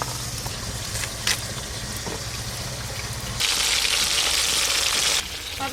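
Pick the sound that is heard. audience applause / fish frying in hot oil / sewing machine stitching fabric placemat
fish frying in hot oil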